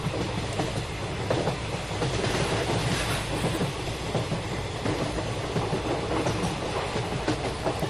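A passenger train runs from Vijayawada toward Mangalagiri with a steady, loud rumble and rattling wheels on track, heard from inside the carriage without pause or voices.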